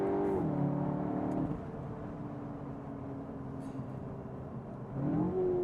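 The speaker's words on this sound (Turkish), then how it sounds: "Hemen size şöyle bir hızlamasını göstereyim." A Cupra Formentor crossover accelerating hard, its sporty engine revving loud and close, with pitch climbing through quick gear shifts, dipping and settling, then surging upward again near the end.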